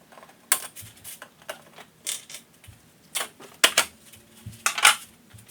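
Small plastic rivets being prised out with a panel popper tool on a BMW X5 V8 N62 engine bay, giving a series of sharp, close clicks and snaps spaced irregularly with faint handling noise between.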